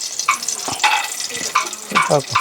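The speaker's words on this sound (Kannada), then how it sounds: "ಗೇರು ಬೀಜ ಹಾಕು, ಅದಕ್ಕೆ ತುಪ್ಪ ಹಾಕಿ ಹುರಿಬೇಕು" Cashew nuts roasting in ghee in a pan sizzle steadily while a spoon stirs and scrapes in several short, close bursts; one brief spoken word cuts in.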